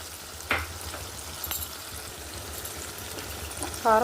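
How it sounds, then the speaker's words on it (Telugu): Drumstick and egg masala with coconut stirred in a pan, a low simmering sizzle broken by a few sharp spoon scrapes and clinks against the metal. "మొత్తం కలుపుకుందామండి. అడుగు పట్టకుండా కలుపుకోవాలండి"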